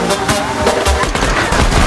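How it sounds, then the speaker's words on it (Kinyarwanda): Loud, dense bursts of gunfire from an action movie party scene, rapid shots stacked over a thick score, with a faint voice mixed in. "barasa mu kirere n'abana b'abakobwa"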